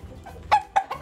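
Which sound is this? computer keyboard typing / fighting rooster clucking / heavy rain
fighting rooster clucking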